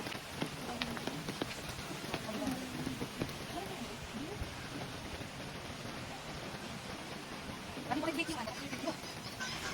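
Steady rain patters on surfaces all around, soft and continuous, with scattered louder drops and a faint voice now and then underneath.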